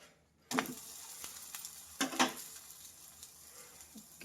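Fasting-style thalipeeth crisps on a griddle with a faint, steady sizzle, broken by a few sharper crackling bursts and light scraping as it is turned; no voices.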